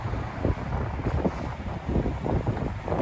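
Strong wind buffets the microphone in rough, gusting bursts, a continuous roaring rumble close up.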